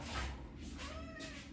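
A cat meowing at a door, a few drawn-out, close and fairly soft meows in quick succession with no talking.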